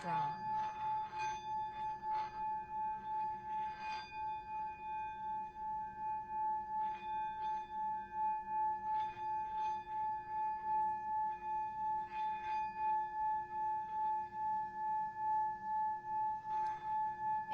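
Chakra singing bowls ring out in sustained, shimmering tones, with repeated soft strikes layering over a steady humming drone throughout.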